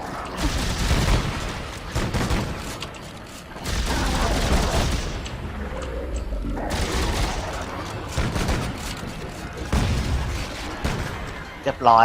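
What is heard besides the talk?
gunfire in the video game Dead Space 3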